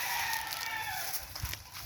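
A rooster crows nearby over a steady outdoor hum, with chickens clucking faintly around it.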